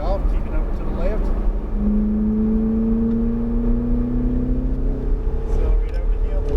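A car accelerates hard on a cone-marked driving course, its engine note climbing steadily in pitch over a constant roar of road and wind noise, close and loud.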